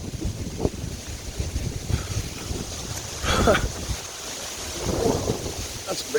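Strong wind from Hurricane Helene roars and gusts through trees in Marion, western North Carolina, a steady buffeting rush close to the microphone with a few brief louder surges.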